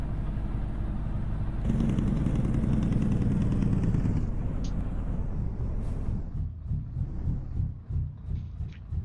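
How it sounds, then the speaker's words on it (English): A truck engine runs in a trucking video game with a lope-style engine option, droning loud and steady, then easing after about four seconds into a lumpier, pulsing rumble. "It's a pretty decent engine. Sounds pretty nice."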